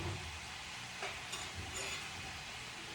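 Shrimp fried rice in a hot pan, giving a steady, fairly quiet broadband sizzle with a few faint stirring scrapes throughout, close and heard without talk.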